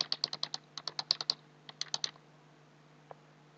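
A computer keyboard clicks in a quick run of about a dozen crisp keystrokes, then a short pause, a few more taps and one last isolated press, close and quiet.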